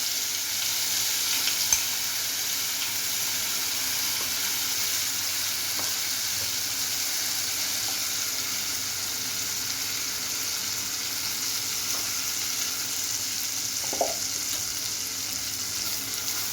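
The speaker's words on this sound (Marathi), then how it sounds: "आपण हे वाटण तयार केलंय ते छान तेलामध्ये आपण परतून घ्यायचं छान" Ground spice paste frying in oil for a traditional Makar Sankranti bhogi vegetable dish, a steady close hiss and sizzle throughout with a couple of faint stirring taps and no talk.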